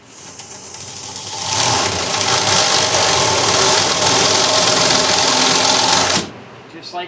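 A 1-inch counterbore bit drills into wood for a loft ladder, a loud steady motor whine building over about a second, holding for roughly five seconds, then cutting off abruptly.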